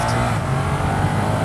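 Ducati Monster 1200 motorcycle from 2015, engine running hard at speed with a steady, loud, continuous drone and rumble throughout, close up.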